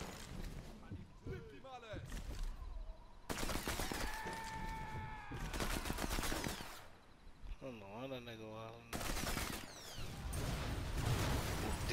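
Gunfire in the Sniper Elite 4 video game, with bursts of shots and loud blasts in several stretches, mixed with game effects and voices talking over it.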